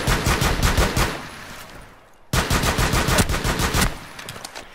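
Rapid automatic gunfire in Rainbow Six Siege, dense bursts of close, loud shots with a brief pause in the middle before another sustained volley.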